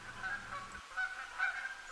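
Geese honking as they fly over a backyard after heavy overnight rain, a few faint, distant calls in a loose rhythm over quiet outdoor background.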